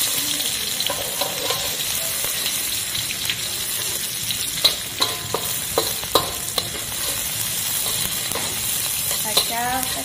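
Garlic being stir-fried in a pan while durian and anchovies are cooked, a close steady sizzle with sharp scrapes and clinks of a spatula stirring at irregular intervals.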